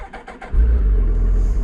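A few sharp engine blips, then a deep, loud Suzuki Hayabusa motorcycle engine rumbles steadily at idle through its exhaust, close up.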